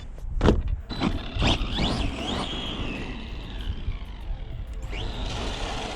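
An ARRMA Gorgon RC car on a 3S battery with a wheelie bar revs its electric motor in bursts, whining and sweeping up and down in pitch, with tyre scuffs and knocks as it pops wheelies nearby.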